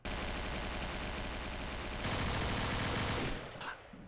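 Rapid, continuous automatic gunfire from the video game Garry's Mod, loud and close, rattling without pause for about three seconds before cutting off into quieter game sounds.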